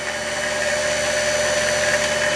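A 72V 2200W DC motor for a cargo vehicle runs smoothly and evenly, a steady mechanical hum with a high whine, close and constant with no talking.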